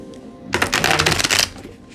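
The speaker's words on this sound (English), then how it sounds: "One more shuffle." A deck of playing cards riffled in one quick shuffle, a dense close burst of flicking paper lasting about a second over a quiet room.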